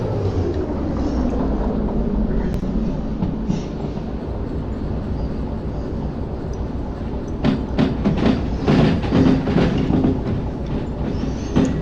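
A locomotive in the Derail Valley train simulator rolls steadily with a continuous rumbling rail hum, then clickety-clack wheel clatter and squeaks pick up toward the end as it coasts into a station.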